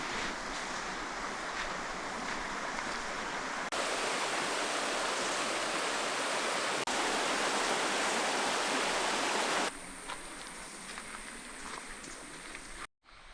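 Steady rushing of flowing water at Davies Creek in Far North Queensland, a continuous broadband wash that swells louder through the middle, then eases back to a softer flow before cutting off abruptly near the end.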